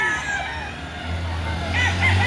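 Roosters and chickens at a fowl market in Lipa, Batangas crow and cluck, with a drawn-out crow rising near the end over a low vehicle rumble and some background chatter.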